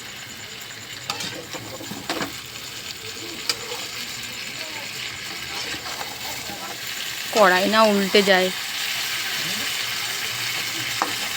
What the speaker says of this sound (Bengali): এখন কিন্তু মাংস কষানো চলছে